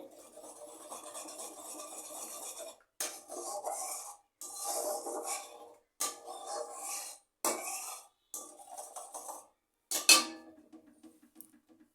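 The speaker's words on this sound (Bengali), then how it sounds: "এক দু প্যাকেট গুঁড়ো দুধ দিয়ে দিচ্ছি এটাকে ভালো করে গুলে নিতে হবে" Spoon stirring and scraping powdered milk into a papaya filling for pitha in a pot, in repeated rasping bursts separated by short pauses, close and fairly loud.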